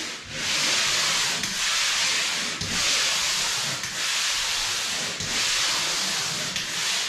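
Light sanding of painted room walls with fine-grit sandpaper: a loud, close, hissing scrape in long, even strokes, with brief pauses between passes.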